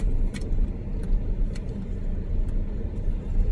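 Cars pass along a residential street in a Pampanga subdivision, a steady low engine and tyre rumble with faint light rattles, fairly close and continuous, no talk.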